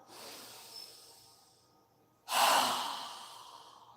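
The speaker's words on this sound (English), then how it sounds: "exhale with a strong breath with our mouth open wide as we lower our arms back down" Two strong breaths during a yoga exercise: a softer exhale fading over the first two seconds, then a sudden forceful open-mouth exhale that rushes out loudly and tapers slowly, close and breathy with no talking.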